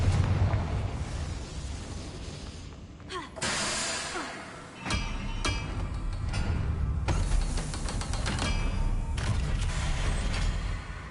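In the Hogwarts Legacy video game, the Confringo explosive spell goes off with sudden blasts and rumbling bursts over a busy layer of mechanical game effects, loud and close.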